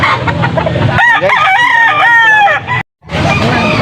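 A rooster crows loudly and close by, one long drawn-out call, with clucking and farmyard bird noise before and after.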